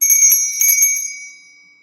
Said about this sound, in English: Ring the damn bell.